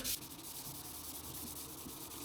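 Steady, soft scratchy rubbing of 800-grit sandpaper on a sponge against a Mazda Miata MX-5 body panel, repeated back-and-forth strokes close by.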